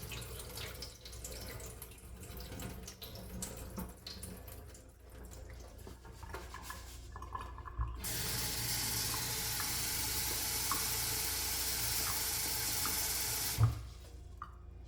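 Water runs from a tap while grain for tongba, a Himalayan millet brew, is rinsed at home; soft sloshing and handling noises first, then a steady, fairly loud stream of running water for several seconds before it cuts off abruptly.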